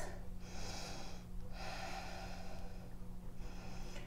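Deep, slow breaths of a person holding yoga half moon pose, close and soft, with airy inhales and exhales in a steady rhythm against a low constant hum, no talking.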